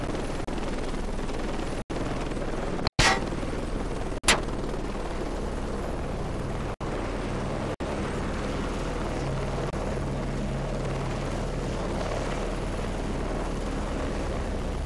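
Helicopters in the combat game Heliborne: a steady, loud rotor drone fills the scene throughout, broken by a few sharp bursts of gunfire and impacts, with no talk.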